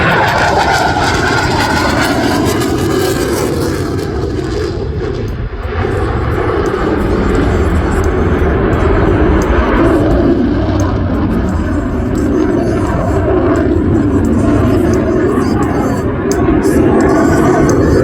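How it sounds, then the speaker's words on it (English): Loud, continuous roar of a CF-18 Hornet jet fighter making a topside pass at an air show, a broad engine rumble sustained throughout with slight swells and no voices. "aft is going to give us a topside pass, giving you a great photo opportunity with the CF-18 Hornet"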